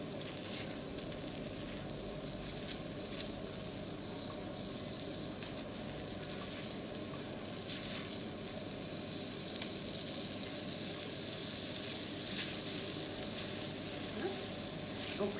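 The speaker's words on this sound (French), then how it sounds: "je prends mon beurre que je vais déposer et faire naviguer dans ma poêle" Butter sizzles steadily in a frying pan ahead of making flambéed crêpes, a dense, continuous crackle with no breaks, close and moderately loud throughout.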